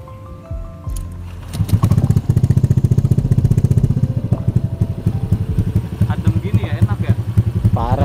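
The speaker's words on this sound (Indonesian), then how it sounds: "Kita mau cek sound knalpotnya boleh lah?" A modified Yamaha Genio motorcycle with a racing exhaust starts up and revs, the engine popping and rising in loud, close, repeated bursts, with voices briefly underneath.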